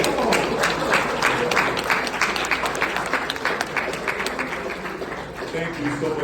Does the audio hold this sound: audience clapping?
yes